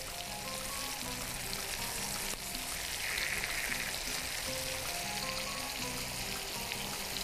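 Slices of meat sizzle steadily in a hot pan as they are turned, a dense continuous crackling hiss that holds at an even level throughout.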